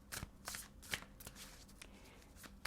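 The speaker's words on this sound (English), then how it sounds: "Pull the first 3 cards." A tarot deck is shuffled by hand close up, giving quiet riffling flutters and soft slaps in an uneven rhythm.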